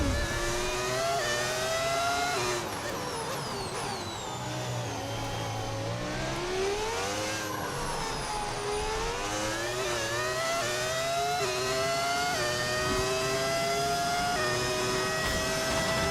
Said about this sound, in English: Having fun driving my car around Monaco.